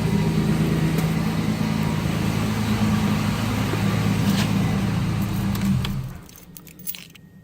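A turbocharged Cadillac Brougham idles with a freshly built exhaust, a steady, fairly quiet low rumble close by with a slight exhaust leak tick, before the engine shuts off and goes silent near the end.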